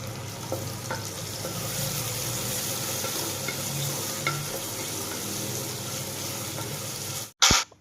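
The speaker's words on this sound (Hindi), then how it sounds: "और हम इसे अब गोल्डन ब्राउन होने तक इसे फ्राई कर लेते हैं" Steady frying sizzle from a pan where dried red chillies, cumin and asafoetida are being browned until golden, with a few faint stirring clicks and a brief louder clatter at the very end.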